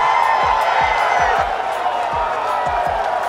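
A golf gallery roars and cheers at the WGC-Dell Match Play after Tiger holes out, a loud sustained wash of crowd noise and whoops, with faint rhythmic thumps underneath.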